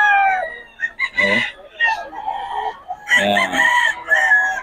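Several roosters at a gamefowl gathering in Bocaue crow loudly and repeatedly nearby, their long calls overlapping, while someone speaks briefly among them.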